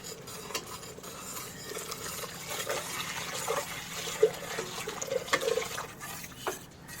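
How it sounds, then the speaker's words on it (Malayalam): Water pours into rice in a pressure cooker for egg biryani, a quiet trickling splash with a few louder gurgles toward the end and no talk. "ഈ വെള്ളം ഒഴിക്കുകയാണ്."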